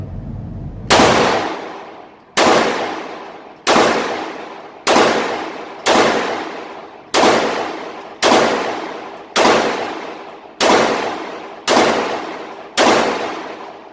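A Walther Creed 9mm pistol fires about eleven evenly spaced shots at a target. Each loud, sharp crack is followed by a ringing, metallic decay, close by, with no talking.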